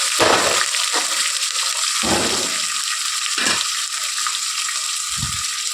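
Ginger-garlic paste and chopped tomatoes fry in a pan for a pulao, giving a loud, continuous sizzle with a few low thumps and stirring bumps, and no voices.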